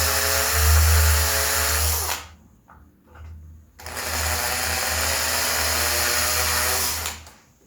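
A power drill bores a hole into a wooden room door while a door handle is replaced, two loud close whirring bursts separated by a short pause with brief stutters.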